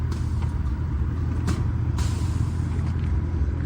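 Air hisses out of the air suspension on a Lexus LS400 as the car is lowered, a steady close release over a low rumbling background, with a few brief sharper puffs of air.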